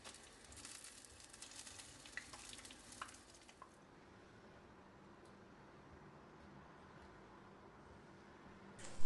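Meat-filled börek fries in hot oil, a soft steady sizzle with faint crackles that is livelier at first, then settles to a quiet hiss, no talk.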